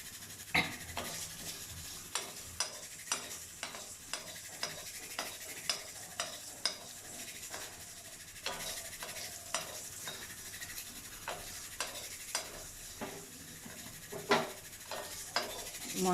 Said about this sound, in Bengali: আর দিচ্ছি কিছুটা মেথি। এবার সমস্তটাকে ভালো করে ভেজে নেব।